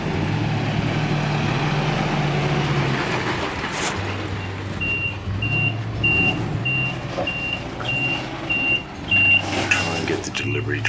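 Gravel delivery truck reversing at a residential front yard, its engine idling and rumbling under a steady run of evenly spaced high reversing beeps, with a voice talking over part of it.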